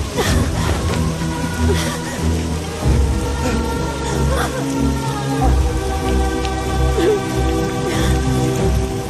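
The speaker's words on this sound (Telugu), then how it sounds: "అయ్యో, వర్షం వచ్చేలా ఉందండి." Steady rain pours down outdoors near a temple, a dense continuous patter with occasional low rumbles that may be distant thunder, filling the whole stretch at an even loudness.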